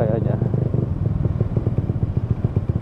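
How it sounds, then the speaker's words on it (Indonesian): A motorcycle ridden through a heavy traffic jam: a steady, close engine putter with rapid rhythmic pulsing and some clatter, with a voice talking over it. "Dan ini macet kayak gini, udah lama banget gua nggak naik motor macet guys."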